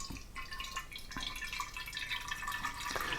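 Colored water poured from a wine bottle into another vessel, a continuous splashing trickle with a few sharp drips and gurgles at the start, close and clear with no talk.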